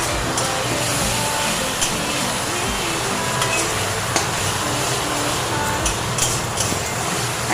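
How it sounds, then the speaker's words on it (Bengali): Kashmiri dum aloo masala with tomato and ginger paste is stirred in a pan. A constant hiss of cooking runs under scattered light clicks and taps of the spatula, with no talk. "একটা একটা করে দিয়ে ভালো করে নেড়ে নিতে হবে"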